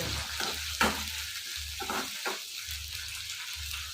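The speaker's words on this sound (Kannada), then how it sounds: "ಈಗ ಹಸಿಮೆಣ್ಸಿನ್ಕಾಯಿ ಹಾಕೋತಾ ಇದ್ದೀನಿ ಸ್ವಲ್ಪ ಚೆನ್ನಾಗಿ ಗೋಲ್ಡನ್ ಬ್ರೌನ್ ಬರಲಿ" Green chillies fry and sizzle in oil in a pan for a spicy radish chutney, a soft steady crackle with a few stirring scrapes and brief spatters, moderately quiet and close.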